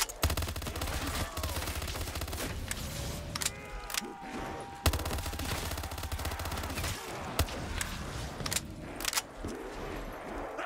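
A death machine minigun fires in a parkour challenge map of a zombies video game, rapid sustained bursts of gunfire with clattering mechanical spin-up and metallic jangles, loud and dense, pausing briefly before resuming.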